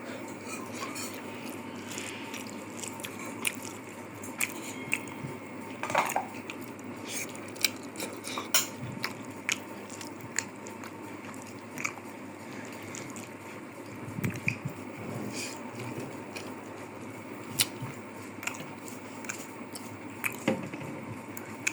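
Someone eating a home meal of okra and lentils makes soft, intermittent clinks of cutlery and dishes with squishy handling of food, fairly close and quiet, with no talking.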